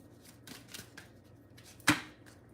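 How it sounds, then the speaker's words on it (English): Soft riffling and rustling of tarot cards being shuffled, a few quiet passes followed by one sharper snap near the end. "Dang, my hands all small to shuffle this."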